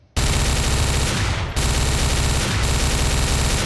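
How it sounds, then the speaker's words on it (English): A gun in the video game Garry's Mod fires bullets in rapid automatic bursts, loud and close, with a short break near the middle before the shooting resumes. "let me show you how powerful, first of all, this gun is"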